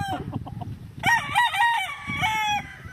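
A rooster crows loudly and close by, a drawn-out call after a few short clucks, with other chickens clucking in the background.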